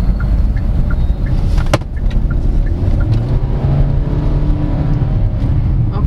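A Hyundai Stargazer MPV with IVT accelerating at full throttle in eco mode, heard from inside: a loud, steady engine drone with road rumble throughout, a brief click partway through, and no clear talking.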